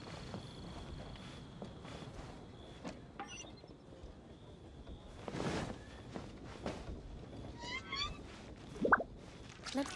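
A cat meowing in the video game Genshin Impact, several short, faint mews scattered among soft footsteps and game ambience, with a brief voice in between.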